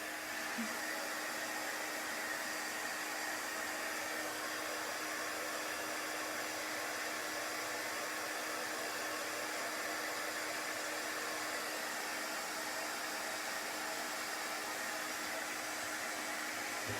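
A hair dryer blowing on chalk couture brushes runs steadily as a loud, even whooshing drone with a constant motor whine, unbroken for the whole stretch.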